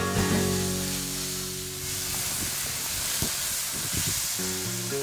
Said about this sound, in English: stir and mix well